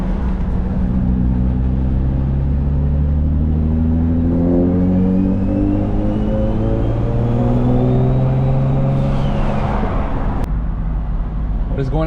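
A single turbo Infiniti G35 on summer wheels and tires drives and accelerates through the gears, with loud rising engine and turbo whine that climbs, drops at a shift, then climbs again, heard from inside the car.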